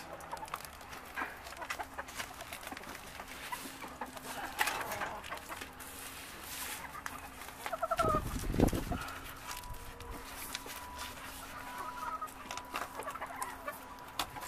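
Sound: chickens clucking

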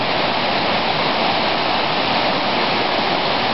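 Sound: waterfall

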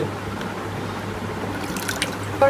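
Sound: water being poured into a cooking pot

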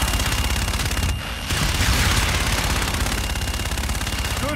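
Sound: aircraft gun run gunfire in video game Call of Duty Infinite Warfare

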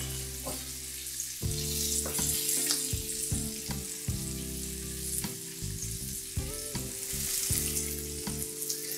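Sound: potatoes frying in olive oil in a pan

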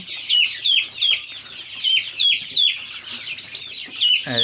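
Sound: chickens clucking while drinking vaccine water

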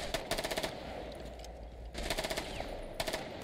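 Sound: gunfire in a video game

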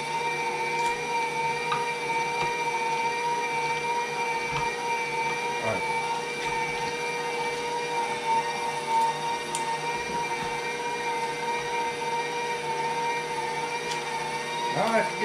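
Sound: KitchenAid grinder grinding deer meat for burger

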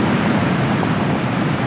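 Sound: Atlantic Ocean waves crashing on Peniche beach

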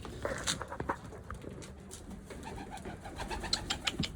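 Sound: pigeons cooing in coop

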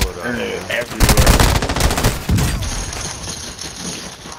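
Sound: P90 gunfire in Call of Duty: Modern Warfare II video game

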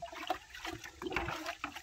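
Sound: liquid poured into a bucket

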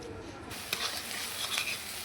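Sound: frying chopped onion and garlic in oil

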